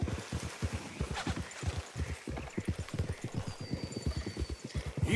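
Horses in the video game Red Dead Redemption 2 clop along in a quick, steady hoof rhythm, close and fairly loud, with a brief whinny and faint voices in the background.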